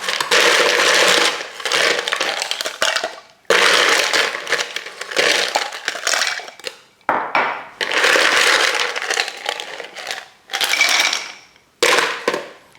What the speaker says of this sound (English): I'll be adding some ice cubes to it